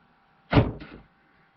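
Power door locks on a 2009 Buick Lacrosse actuate during an unlock test, giving a sharp, close mechanical clunk followed by a second softer thump, with another brief click at the end and no voices.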